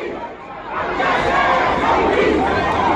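Large crowd of protesters massed at the Ferguson police barricade, a dense, steady wash of overlapping voices and chatter that swells a little louder after the first second and holds.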